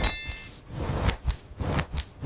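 A bright notification bell dings a few times, short metallic chimes ringing cleanly over a quiet background with no talking.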